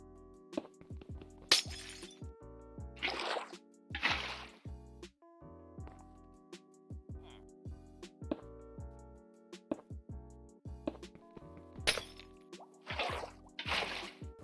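Glass blocks breaking in Minecraft, a series of bright shattering crashes spaced irregularly among soft clicks and placement thuds, fairly close and clear with no talking.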